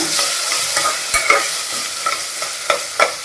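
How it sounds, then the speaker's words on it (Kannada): Ground spice paste of cinnamon, clove and cardamom frying in hot oil for palak rice, a steady close sizzle with a utensil scraping and stirring the pan in repeated strokes, no voices. "ಚೆನ್ನಾಗಿ ಎಣ್ಣೆಗೆ ಬಾರಿಸ್ಬೇಕು."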